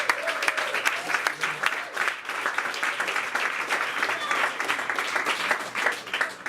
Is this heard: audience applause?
yes